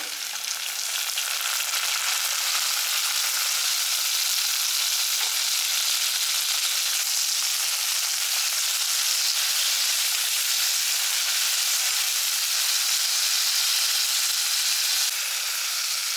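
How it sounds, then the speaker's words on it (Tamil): Chopped tomatoes and onions sizzle and crackle steadily in a hot frying pan, a loud continuous hiss heard close up with no voices. "தக்காளி வந்து நல்லா வதங்கிடுச்சு"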